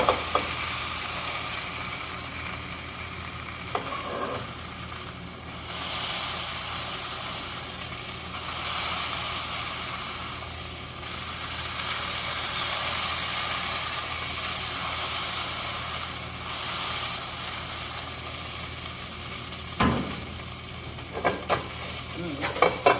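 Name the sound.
maitake mushroom sizzling and steaming in a pan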